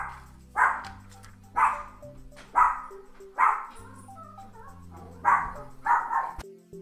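A dog barks nearby indoors, seven loud, evenly spaced barks with game music playing underneath.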